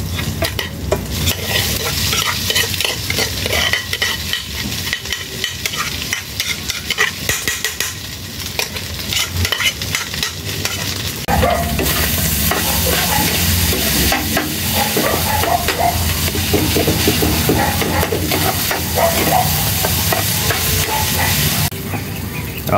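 Rice and hotdog stir-fry in a pan as sinangag, a loud continuous sizzle with frequent scraping and clinking of a utensil against the pan, growing busier and denser in the second half; no talk.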